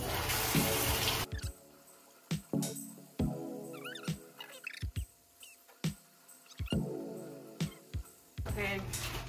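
Running tap water washes a part for a homemade PET machine. The water rushes in short, loud bursts at the start and end, with quieter clicks and handling noises in between.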